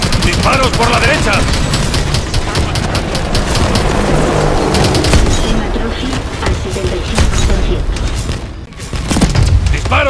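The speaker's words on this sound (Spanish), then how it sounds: "Disparos por la derecha." Loud, dense gunfire with rapid automatic bursts and booming blasts from Call of Duty: Advanced Warfare, continuous throughout, with occasional voices mixed in.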